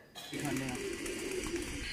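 An old-breed pigeon coos in a low, rounded, repeated call from close by, with someone talking over it.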